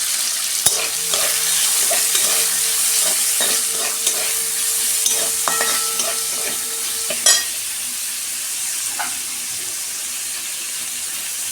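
Onion frying in oil with whole cumin seeds, a loud continuous sizzle broken by sharp spoon-on-pan stirring clatters, settling into a steadier hiss.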